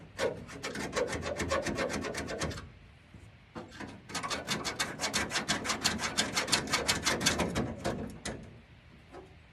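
A dried-out purple Sharpie scrapes hard against a surface in rapid, rhythmic rasping strokes, close and fairly loud, pausing briefly midway before a second longer burst of scraping.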